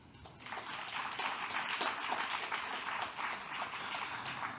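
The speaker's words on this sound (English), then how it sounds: "Please give a big round of applause for all the speakers on the floor and the moderator." Audience applause for speakers and a moderator at a conference discussion session, a steady wash of many hands clapping at moderate distance, even and sustained throughout.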